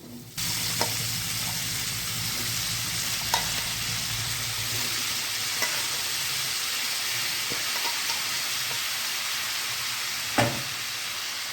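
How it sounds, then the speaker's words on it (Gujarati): Cauliflower florets going into potatoes already frying in a pan for a Gujarati vegetable dish, giving a steady close sizzle with faint stirring scrapes and a few clinks. "હવે આપણે ફ્લાવર ઉમેરી દઈશું"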